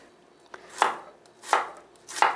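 Vegetables are cut on a cutting board, three distinct knife chops at an even pace with a lighter tap before them, close and clear with no talking.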